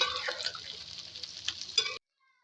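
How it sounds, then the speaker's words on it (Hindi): Okra (bhindi) frying in hot oil makes a bright, close crackling sizzle with a few scrapes of stirring, then cuts off abruptly into near silence. "भिंडी को जो है हमने अच्छे से फ्राई करना है"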